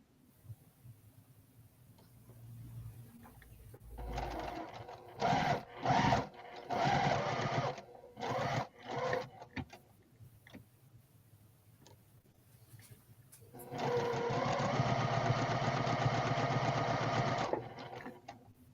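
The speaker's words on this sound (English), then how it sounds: "I'm just sewing leftover half square triangles together." Sewing machine stitching leftover half square triangle quilt scraps together, running in several short bursts of rapid stitching followed by a longer steady run, close and clear with no talk.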